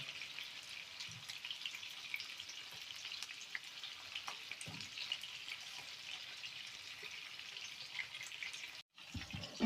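Rabbit meat sizzling and crackling in a hot pan, a continuous frying hiss with small pops, briefly cut off near the end.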